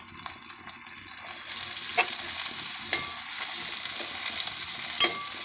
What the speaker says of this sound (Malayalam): നമ്മളിട്ട ഇഞ്ചി വെളുത്തുള്ളിയൊക്കെ നന്നായിട്ട് വഴന്നു വരുന്നുണ്ട്